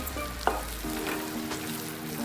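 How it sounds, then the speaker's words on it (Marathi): Stuffed eggplants for bharli vangi bhaji fry in oil, giving a steady close sizzle with a sharp clatter near the start as they go into the pan, no voices. "ती वांगी टाकून घ्यायची वांगी व्यवस्थित तेलामध्ये"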